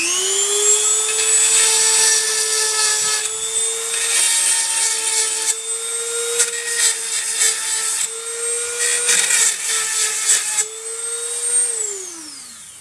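An electric chainsaw sharpener spinning a small grinding wheel against chainsaw teeth: a loud, continuous high whine with repeated brief rasping touches as each tooth is ground, winding down at the end.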